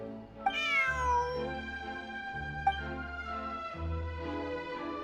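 A cat meows two or three times in Genshin Impact, each call rising then falling, close and clear over soft steady game music.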